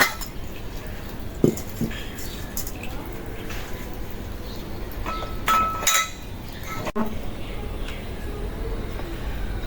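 A metal wok clinks and knocks against the stove a few times as it is set down, amid quiet kitchen background noise.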